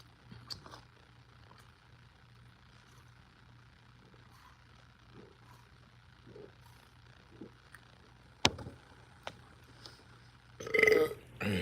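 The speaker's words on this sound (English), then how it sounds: "See when you burp, when you eating, it pushes the food down." A person eating lets out a loud, throaty burp near the end, after a quiet stretch of faint clicks and low room hum.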